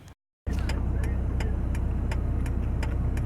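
Cars driving by on a road during stormy weather, a steady loud traffic rumble with faint ticking, after a brief silent gap at the start.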